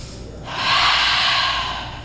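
Slow, deep breathing during a gentle cow-face-arms yoga flow: one long airy exhale, close and fairly loud, over a quiet room with no talking.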